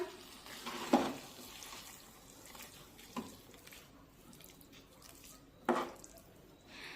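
A spoon stirs methi matar malai curry in a pan, making three soft, separate scraping strokes spaced a few seconds apart over a quiet background.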